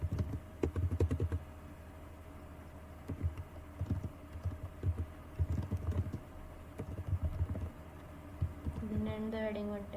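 HTML code being typed on a computer keyboard: bursts of quick, close keystroke clicks with short pauses between them, and a brief voice near the end.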